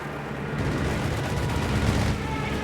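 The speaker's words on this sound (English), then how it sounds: "We got the machine gun here ripping into Charlotte's Fallschirmjägers, Ace level MD42" An Ace-level MG42 machine gun fires in Company of Heroes 3, a sustained stream of rapid shots rolling on with battlefield noise and faint talk underneath.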